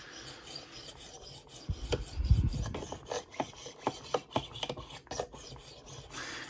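A knife blade is honed on a Tumbler rolling sharpening system with a series of close, rhythmic rasping strokes that rub back and forth, quiet and unaccompanied by talk.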